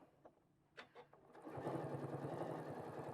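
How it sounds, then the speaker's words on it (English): Sewing machine stitching a vinyl watermelon appliqué, starting after a few small clicks and then running as a steady, close, continuous mechanical whir with a rapid stitching rhythm. "Let me get this other watermelon sewn on here."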